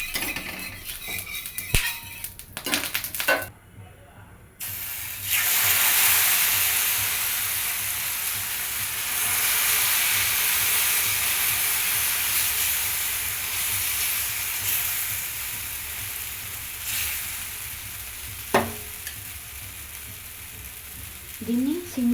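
Oil sizzling hard in a pan heated on the stove over high flame, a steady bright hiss that swells after a brief lull and runs on, with a few sharp clinks of a utensil against the pan.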